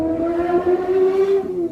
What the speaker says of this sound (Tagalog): nilabay na saba kay motor